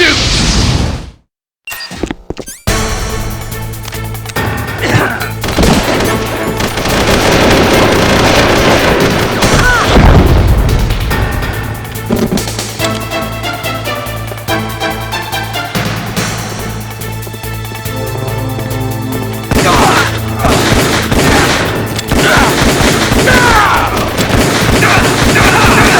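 Gunfire and explosions from the Metal Gear Solid: The Twin Snakes video game: dense, loud bursts of shots and booms layered with music and effects, nearly continuous for the whole stretch after a brief silent gap near the start.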